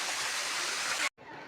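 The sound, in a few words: Somnath waterfall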